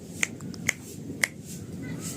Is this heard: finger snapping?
yes